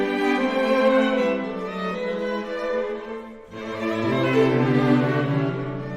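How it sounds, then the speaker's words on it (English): A string quartet of four players performs a Mozart composition, with smooth sustained bowed chords that swell, briefly break off, then resume fuller and richer, close and clear. "That's the sound of a string quartet, just 4 people playing a composition by Mozart"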